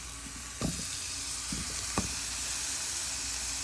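Marinated ash gourd slices frying in oil, a steady soft sizzle with a few brief clatters of handling, faint and close.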